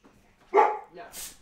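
A single close dog bark, loud and abrupt, followed by a softer trailing yelp in a home setting.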